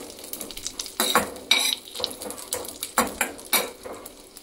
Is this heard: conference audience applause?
no